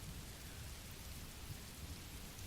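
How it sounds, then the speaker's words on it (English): Steady rain pours down as a dense, continuous hiss with a low rumble underneath. No voices. "by the sound coming from your end, I'd guess it's raining where you are"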